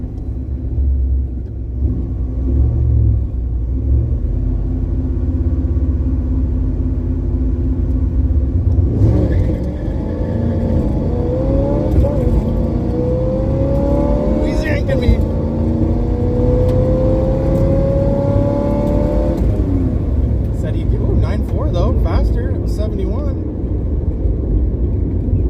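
At a drag strip, a street car idles with a low rumble, then launches and pulls hard, its engine note climbing in rising sweeps through the gears before easing off, while people talk intermittently.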